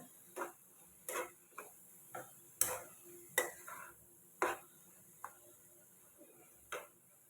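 Carrot halwa being stirred and sautéed in a pan after the milk has reduced, with a spoon scraping the pan in a steady series of short strokes, moderately near and fairly quiet, with no talk.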